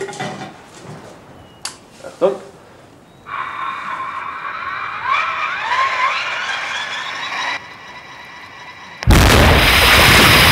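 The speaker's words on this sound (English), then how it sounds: "causing the fuses to detonate." A rock-blasting explosion in the Tyrol Alps, set off by fuses detonated with an electrical charge, bursts in as a sudden loud roar near the end. Scattered knocks, voices and whistling tones come before it.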